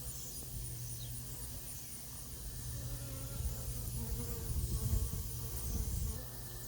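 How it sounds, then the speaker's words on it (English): A honeybee swarm clustered at chest height in a peach tree, a continuous droning buzz that swells a little toward the middle, close and fairly soft, with no talk. "Peach tree swarm."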